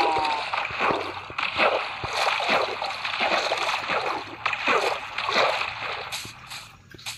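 Jumping into water in Minecraft makes splashy sloshing and gurgling that runs steadily throughout, with faint talk mixed in.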